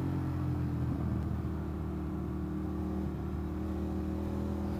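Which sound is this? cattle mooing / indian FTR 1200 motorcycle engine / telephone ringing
indian FTR 1200 motorcycle engine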